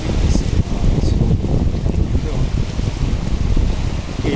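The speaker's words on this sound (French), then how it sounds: "et le vent s'est remis à souffler" Steady wind blows across a sailboat at sea on a solo passage, a continuous loud rushing roar with buffeting gusts and a low rumble, like wind hitting the microphone, with no voices.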